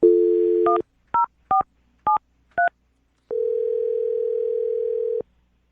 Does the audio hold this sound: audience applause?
no